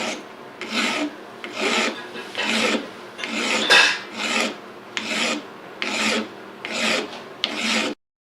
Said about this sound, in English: using a half round file, I'm going to start